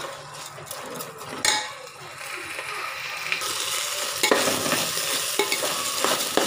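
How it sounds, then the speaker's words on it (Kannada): Rice dry-roasting in a pan with other ingredients gives a close, continuous crackle and hiss, with scraping stirring and clinks of a utensil against the pan. The crackle grows denser toward the end. "ಇದನ್ನು ನೀಟಾಗಿ ನಾವು ಹುರಿಬೇಕು ಅಕ್ಕಿನ, ಅದು ಚಿತಪಟ ಅಂತ ಸೌಂಡ್ ಬರಬೇಕು"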